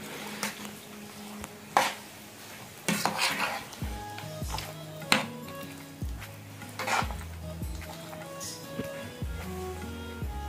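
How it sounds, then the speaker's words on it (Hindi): Phulkiyan mixed with salt, chaat masala and yogurt in a metal bowl: a spoon scrapes and clinks against the sides in irregular strokes, with several sharp, ringing metallic knocks, close and fairly loud. "अब हम इसको कर लेंगे अच्छे तरीके से मिक्स"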